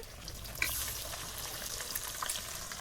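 Fish frying in oil, a quiet, even crackle and hiss with a few faint clicks across a short stretch.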